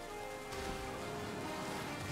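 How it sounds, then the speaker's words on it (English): Steady rain falls in the Pokemon Violet video game, a dense, even hiss of rainfall that continues throughout without a break. "Now it's raining here."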